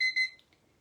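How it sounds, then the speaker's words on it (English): A kitchen timer set for 15 minutes beeps as it is started, giving two quick, close, high-pitched electronic beeps and then falling quiet. "let's set our noisy timer for 15 minutes and"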